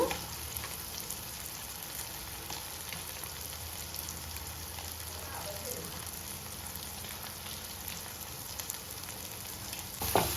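Dried red chillies frying in oil in a pan for a peanut chutney, giving a steady, soft crackling sizzle that runs unbroken and fairly quiet throughout.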